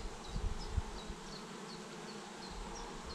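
Honeybees buzz steadily around an open hive frame during a colony inspection, a soft continuous drone with low thumps of handling and no talk.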